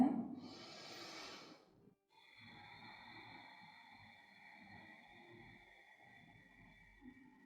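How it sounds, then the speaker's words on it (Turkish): Deep breathing exercise during pregnancy: a long, audible exhale at the start, then quieter, steady breathing continuing under a constant tonal hum. "İnşallah nefeslerimiz duyuluyordur."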